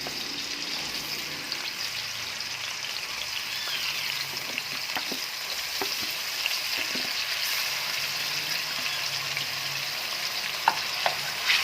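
Chopped onions sizzle and crackle steadily in warm ghee in a kadai, a close, continuous fry with occasional stirring clicks and a few sharper pops near the end, no talking.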